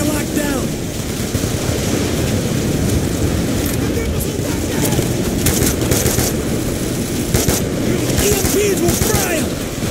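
Machine gun turret firing in Call of Duty: Black Ops 2, dense rapid gunfire and battle noise filling the whole stretch, loud and continuous with a voice talking over it.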